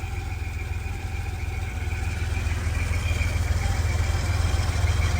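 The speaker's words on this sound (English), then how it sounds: "That's all new here," A new air-conditioning fan runs in a 1983 Porsche 911 Targa, a steady close hum and whoosh with a low engine-like drone underneath, constant throughout with no voices.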